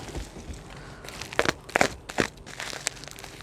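Plastic packaging crinkles and crunches in several quick bursts as flower pots are unwrapped by hand, close up with no talking.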